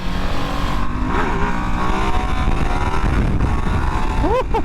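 A 2025 Ducati Multistrada V2 S V-twin engine burbling while ridden: a steady, loud low-pitched engine drone with shifting rev tones and wind rush throughout, heard up close from the rider's position.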